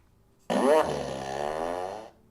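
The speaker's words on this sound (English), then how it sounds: "I think I broke my fart machine." A fart machine sound effect lets out one long buzzing blast that starts loud, settles into a sustained sputter and stops after about a second and a half, with no talk.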